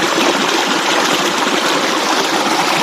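A forest stream flows in a continuous, close, even rush of water with no voices or other sounds over it.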